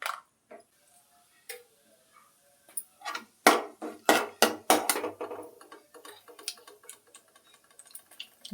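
Mustard and cumin seeds crackle and pop in hot oil for a Malenadu-style kanche fruit sambar, sparse at first, then a dense burst of sharp spits before settling into lighter, steady sputtering.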